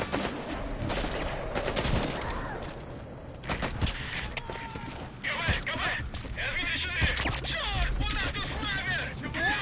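Bursts of rifle and machine-gun fire in Metal Gear Solid V crackle loudly through a busy firefight, sharp repeated shots mixed with shouted voices and engine rumble.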